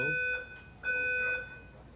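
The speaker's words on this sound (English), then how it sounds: "That's a fire alarm." An indoor fire alarm sounds in a building with piercing high-pitched electronic tones in two long pulses, close and loud against a low background hum.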